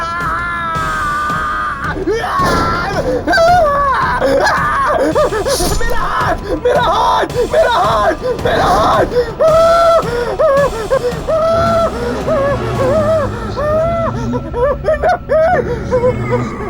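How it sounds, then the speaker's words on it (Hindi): Screams and yells rise over a dense, loud mix of voices, laughter and eerie music in a horror drama scene, with several shrill cries spread across the passage. "ये चीख कैसे?"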